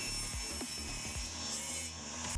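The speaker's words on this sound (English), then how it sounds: "I'm going to be cutting this also at a 45 degree angle" Hand saw cutting a wooden shelf board at a 45 degree angle in a garage workshop, a few close rasping strokes followed by a steadier scraping rub.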